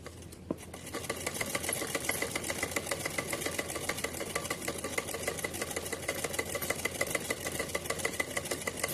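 A sewing machine runs continuously, its needle chattering rapidly at an even pace while stitching a green doll dress for a Kanha ji outfit, with no pauses.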